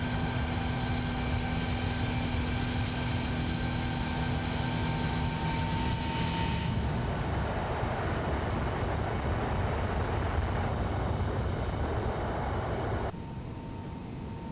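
A Boeing 777 heavy cargo jet in the X-Plane 11 flight simulator passes by, a steady loud engine roar with whining tones that swells into a broad rushing sweep midway and then continues, with no talk.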